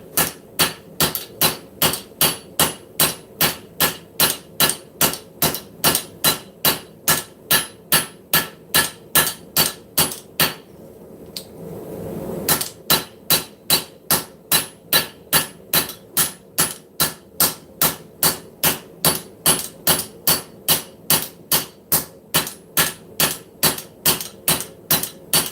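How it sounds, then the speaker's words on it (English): Hammer forging widens a steel ulu blade at a blazing forge. Loud, evenly spaced ringing blows fall in a steady rhythm, pause briefly about halfway, then resume at the same pace. "let's go back into some width forging"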